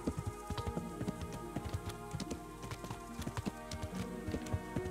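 Galloping horse hooves in the video game Kingdom Come: Deliverance, a steady rapid clip-clop rhythm with light pattering texture, moderately loud and close, with no voices over it.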